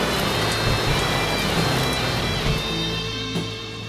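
Steady rain pouring down on a sailboat crossing the Pacific Ocean in a squall, a continuous close hiss of drops on the deck with a low rumble underneath and no voices.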